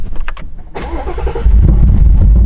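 A Nissan 350Z running on E85 cold starts up close: a few seconds of loud starter cranking, then the engine catches and settles into a deep, rumbling idle.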